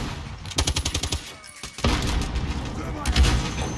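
Gunfire in Call of Duty Warzone, including the M91: a loud burst of rapid automatic shots in quick rhythm, a brief pause, then more heavy firing and impacts over game noise.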